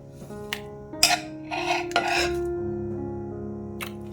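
Thin cucumber slices being moved into a bowl for a no-cook cucumber salad: a few light clinks and scraping knocks against the dish, close by and intermittent, with no talking.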